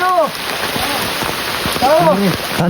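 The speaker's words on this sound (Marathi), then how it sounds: "आणि पाऊस पण एकदम जोरदार चालू झाला होता." Heavy rain pours down at night in rural Konkan during a crab-catching outing, a steady dense hiss that runs through the whole stretch while voices talk over it.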